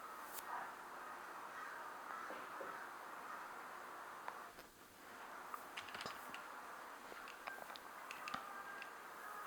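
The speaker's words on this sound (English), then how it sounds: "but there's some birds outside." Faint birds call outdoors, heard from indoors as scattered sharp chirps and caw-like cries over a low, steady room hum.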